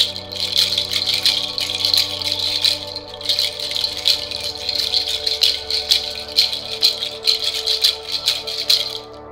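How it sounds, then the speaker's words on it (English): A Mexican shaker rattle filled with dried bead shells is shaken in quick, steady bursts. The shells clack together in a bright, close, continuous rattle that pauses briefly once and then carries on. "it uses these dried bead shell type things to make fun sounds when you shake them and"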